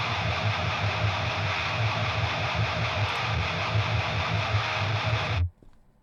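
Heavy distorted electric guitar with an HM2 pedal tone, one side of a left-right pair, churns out a loud, unbroken chugging riff with a gritty, buzzing upper range before cutting out abruptly.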